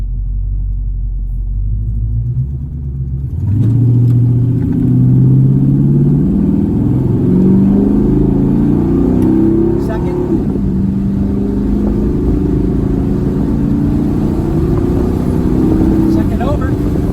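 A 1970 El Camino fitted with a Gear Vendors overdrive and paddle shifters accelerates on a test drive, its V8 rumbling loud and close inside the cabin, rising in pitch through the gears with a shift partway through.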